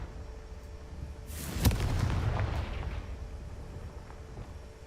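A Confringo fire spell detonates in Hogwarts Legacy, a single booming blast that swells quickly, then rumbles and fades over a couple of seconds with no talking.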